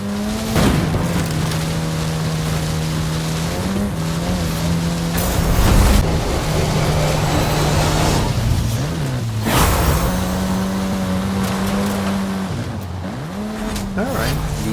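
A Ford Focus RS in a racing video game: a loud, steady engine drone that holds pitch, dips on gear shifts and climbs again, with short tire squeals. Someone talks over it throughout.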